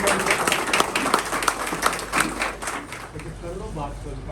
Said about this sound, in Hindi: मैं उनको स्वागत करता हूँ जोरदार तालियों से।